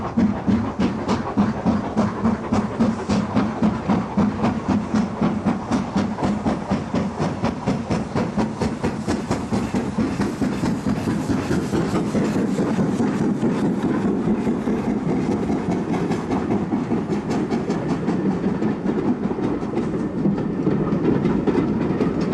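An LMS Black Five steam locomotive, built at Vulcan Works in 1934, pounds along with a loud, rapid rhythmic chuffing exhaust beat over rail clatter, continuous and close throughout.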